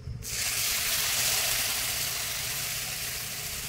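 Water poured into a hot pan of oil with garlic chilli powder and mango chilli powder bursts into a loud, steady hiss that starts abruptly and holds, close up, with no voices.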